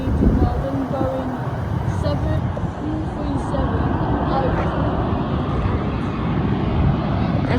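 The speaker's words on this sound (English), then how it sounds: "Qantas flight 449 Sydney to Melbourne going" Qantas Boeing 737-800 airliner passing at Melbourne airport, a loud rumbling jet roar filling the scene, heard outdoors with a voice speaking over it.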